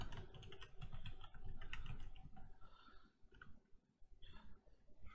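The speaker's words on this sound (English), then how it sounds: "let me type somewhere where I'm actually typing." Someone types on a computer keyboard nearby, producing quiet, rapid key clicks in uneven bursts with short pauses, and no one speaks.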